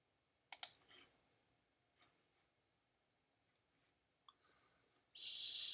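A few faint computer mouse clicks spaced apart while working in CAD drawing software, a quick double click first, then sparse single clicks in near silence, ending in a burst of hiss.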